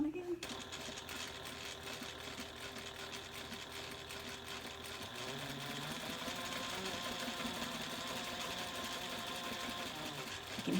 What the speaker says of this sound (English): I can hear my needle kind of going plunk, plunk, plunk